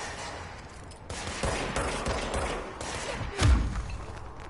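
Enemy gunfire in the video game Control, a burst of rapid shots and thuds with a heavier booming impact near the end, set against a dense background of game noise.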